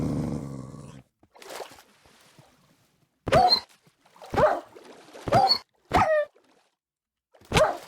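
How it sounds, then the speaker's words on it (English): Dog in Minecraft (SevTech Ages modpack), a series of about five short, loud barks and growly yips spaced roughly a second apart, following a brief stretch of background noise. "There's a dog."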